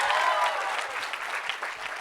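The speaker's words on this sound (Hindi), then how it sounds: "इसके लिए एक ताली बनती है भाई, जोरदार ताली" Audience applause at a film trailer launch, a dense burst of clapping that holds steady and fades slightly toward the end.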